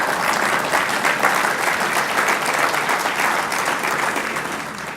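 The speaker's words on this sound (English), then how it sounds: "Whoever's over there, keep clapping" Sustained applause from an audience at an annual meeting event, a dense, steady wash of many hands clapping close by, holding level for the whole stretch and easing slightly toward the end.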